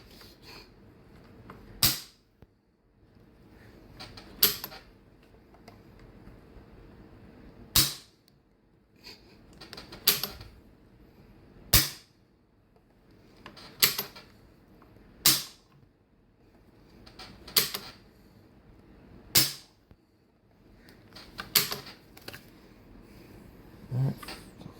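Dry trigger pulls on a Finnish Mosin Nagant M27 rifle give about ten sharp, close metallic clicks. Each click stands alone in a quiet room, spaced roughly two seconds apart.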